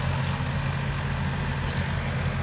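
A Swaraj 855 tractor engine idles with a steady low throbbing rumble, close and continuous, with no voices over it.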